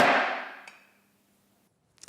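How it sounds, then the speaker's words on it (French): An auctioneer's wooden gavel strikes once at a closing auction sale, a single sharp close knock that rings and fades over about a second, followed by a faint brief clatter. "Lundi et mardi résonnera pour la dernière fois le son du marteau des commissaires-priseurs."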